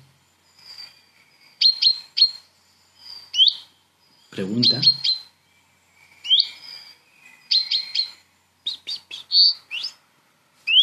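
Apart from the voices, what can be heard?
bird song trill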